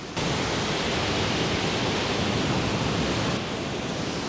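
Sweden's largest waterfall roars as a dense, loud, unbroken rush of falling water, steady throughout and easing slightly near the end, with no voices.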